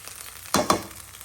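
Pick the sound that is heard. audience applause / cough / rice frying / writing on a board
rice frying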